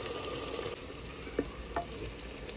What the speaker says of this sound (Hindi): लहसुन अदरक का पेस्ट तकरीबन भून चुका है।